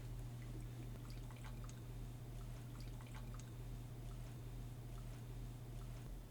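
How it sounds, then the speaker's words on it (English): About two ounces of spirit are poured from a jigger, heard as faint, scattered liquid drips and trickles over a steady low room hum. "Let's do about a 2 ounce pour, right?"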